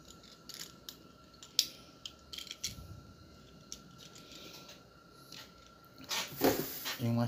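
Small screwdriver turning a screw on a scale battle-car model being closed up after varnishing, giving a run of light ratcheting clicks and ticks with a few sharper taps, close and fairly quiet, without speech.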